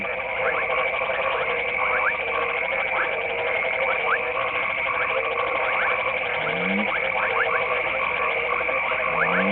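A dense chorus of frogs croaks and trills continuously, many calls overlapping loudly, with occasional rising chirps standing out.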